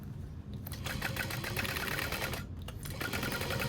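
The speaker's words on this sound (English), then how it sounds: "we're going to sew that other side" Close, continuous whirring and rapid needle clatter come from a sewing machine sewing the side seam of a Bobby backpack, with a brief pause partway before it resumes.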